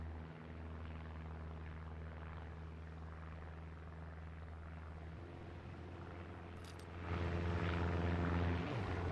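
A bomber in War Thunder Mobile gives a continuous low propeller-engine drone that grows louder and rougher near the end as the aircraft approaches.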